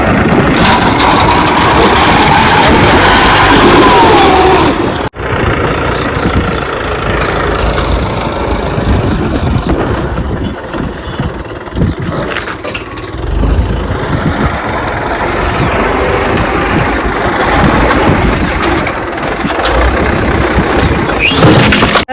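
A tractor engine runs loudly and steadily nearby, a deep rumbling idle that shifts slightly in pitch, with a brief knock partway through.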